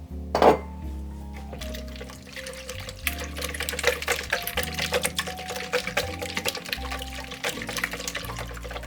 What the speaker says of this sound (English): I'm going to go ahead and add my vanilla and my almond extract